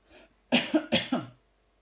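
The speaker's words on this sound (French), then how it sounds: "Je vais tousser." Four sharp, harsh coughs in quick succession from a nearby person, preceded by a faint breathy sound, then silence.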